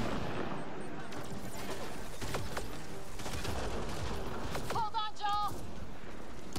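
A turret fires on the player in the video game Mass Effect: Andromeda on a Kett shield station, a rapid string of gunshot bursts against game noise, with beeping interface tones near the end and someone talking over it.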